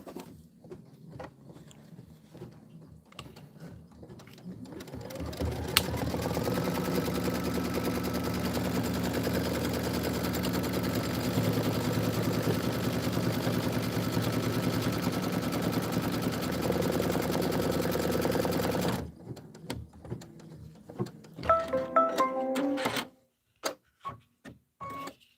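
An embroidery sewing machine stitches a Kimberbell Home Sewn Volume 2 tiling scene, its steady mechanical whirring and rapid stitching running loud and unbroken for about fourteen seconds before stopping, with quieter handling clicks afterward.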